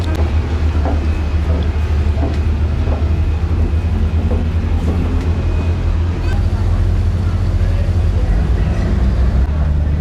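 A boat's steady low engine drone and churning water rumble continuously in Istanbul, with voices talking faintly in the background.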